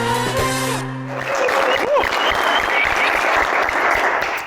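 A studio audience at a lively Ethiopian television variety show breaks into sustained applause right after a short musical sting, the clapping loud, dense and continuous to the end.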